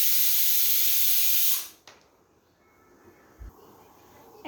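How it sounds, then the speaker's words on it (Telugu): Whole spices, onion, coriander leaves and ginger garlic paste frying in a pan for a Rayalaseema mutton curry, a loud hissing sizzle that stops abruptly, followed by quiet room noise and a soft knock. "ఇప్పుడు మనం ఫ్రై చేసుకుంటున్నాము. ఇవన్నీ ఫ్రై చేస్తున్నాము."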